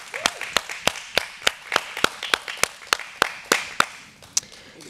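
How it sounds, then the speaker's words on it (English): Applause from a small studio audience at a virtual charity program, sparse individual hand claps landing in an uneven rhythm, fairly close and moderately quiet, thinning out toward the end. "Real applause."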